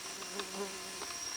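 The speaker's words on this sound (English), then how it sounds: "Ah, these frickin' mosquitoes" Faint, thin insect buzzing hovers close by for a moment, a steady whine with a few brief louder flickers, heard alone without any talking.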